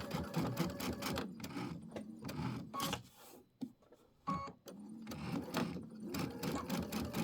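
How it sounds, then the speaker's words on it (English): Sewing machine back stitching a mini quilt from a home-sewn embellishment kit, running in loud rhythmic bursts with brief pauses between passes, close and alone. "I'm going to turn one more time and let me back stitch this."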